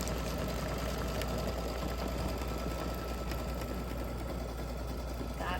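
An embroidery machine stitching an Easter bunny design in a hoop, running with a steady fast mechanical hum and rapid needle chatter, continuous and close.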